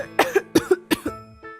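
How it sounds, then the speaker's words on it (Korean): Several close, loud coughs in a quick series, four or five sharp bursts with short pauses between them, ending in a softer throat sound, with no talking. "요즘 기침이 자주 나와요."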